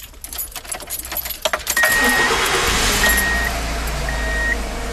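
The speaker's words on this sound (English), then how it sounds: "Now I'm going to start the car and turn the AC on." A car engine cranks and catches, settling into a steady idle while a ventilation fan and intermittent beeps sound over it; earlier, keys jangle and there is handling noise.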